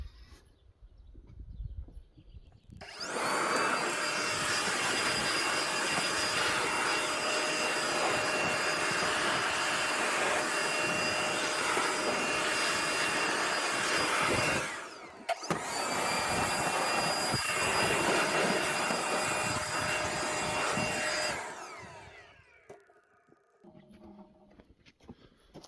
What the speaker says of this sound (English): I think I'm actually going to get my blower and just blow this right out of there.